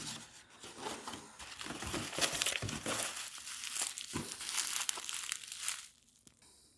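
Plastic packaging crinkles and tears close up as a parcel holding a 400-gram jar of honey is opened, with bursts of rustling and crunching that stop abruptly near the end.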